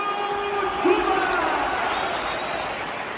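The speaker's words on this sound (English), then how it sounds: "Fans have just seen it on the screen, and that deserves a round of applause." Football fans in the stadium at a Rangers v St Mirren match applaud and cheer after a goal is replayed on the big screen, a broad, even wash of crowd noise throughout.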